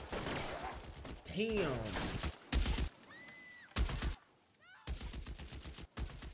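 Machine gun and rapid gunfire from the video game L.A. Noire crackle in loud bursts, broken by short pauses, while someone speaks briefly over the shooting.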